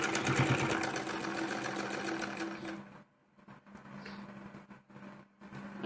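A sewing machine stitches a baby dress in a quick, even run for about three seconds, then pauses before a few softer, intermittent bursts of stitching.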